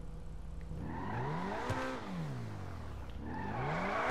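A luxury car engine in GTA 5 revs hard, rising and falling in repeated sweeping surges with a brief tire-like squeal, loud and close, with no voices.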